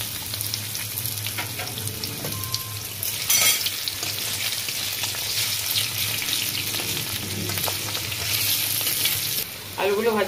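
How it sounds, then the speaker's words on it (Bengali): Potatoes fry in hot oil left over from frying chicken for a mince masala, a loud steady sizzle with stirring scrapes and crackles throughout. "ওই তেলে আমি একটু আলুগুলো ফ্রাই করে নেব।"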